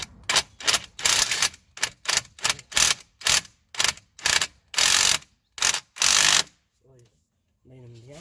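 A ratchet tightens bolts on a VW Golf 4 driveshaft, loud close rapid clicking in repeated bursts of varying length, then someone speaks briefly afterward.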